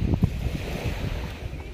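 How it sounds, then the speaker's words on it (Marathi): Waves washing onto a beach at a scenic seaside spot, a steady churning surf with soft low rumble and wind noise on the microphone, continuous through the short stretch with no talking. "खूप छान खळखळाट अगदी समुद्रासारखं"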